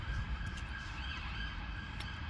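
Emergency vehicle sirens wail steadily through a churchyard in Bodmin, Cornwall, a continuous tone that sounds distant and moderately faint over a low background rumble, with no voices.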